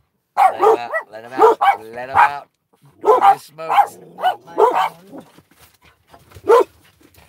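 Dogs bark repeatedly in loud, close bursts with short yips and whines between them, and a person's voice speaks briefly in the pauses.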